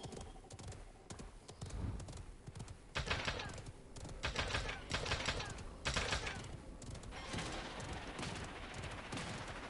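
Rapid clattering hoofbeats from a horse in the battle royale game Realm Royale on PS4, mixed with bursts of gunfire-like cracks and busy game noise throughout.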